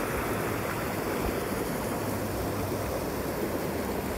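River water flowing steadily at Antelope Creek, a continuous broad rushing wash heard close and fairly loud with no voices.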